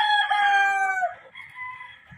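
A gamefowl rooster of Sweater or Roundhead breed crowing once nearby, a loud strained call that trails off into a fainter tail.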